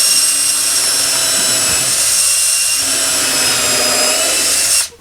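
Power drill boring pilot holes, a loud steady high-pitched motor whine running continuously for several seconds before cutting off at the end, with no talk.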